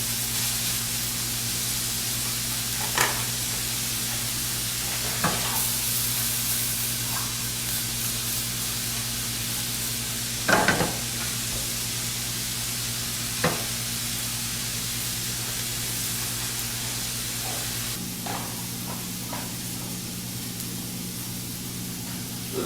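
Sausage and vegetables frying in a pan for keto omelette muffins give a steady broad hiss under a low electrical hum, with a few sharp clicks and pops scattered through.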